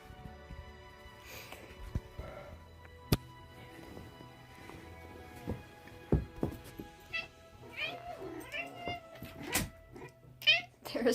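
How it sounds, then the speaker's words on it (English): A domestic cat meows a few times, its cries faint and intermittent beneath speech and scattered thumps from a livestream room. "There's my cat."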